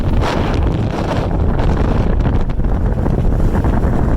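Strong wind gusts batter the microphone outdoors, a loud, continuous roaring buffet with surging peaks and no pauses.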